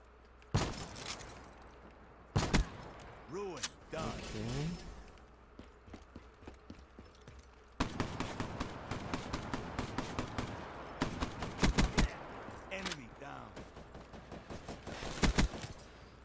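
Rapid gunfire in Black Ops 3 Gun Game comes in sharp single shots and clustered bursts at moderate volume, with a player's voice talking at points between the shots.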